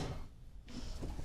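A door swings open in a home kitchen while Irish stew is being made, giving a short soft clunk and release partway through against a low room hum, with no talking.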